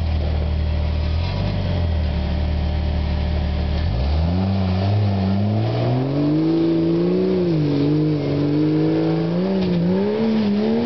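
A vehicle engine idles low, then revs hard under throttle, its pitch climbing and wavering as it pulls through a rocky stretch, loud and close.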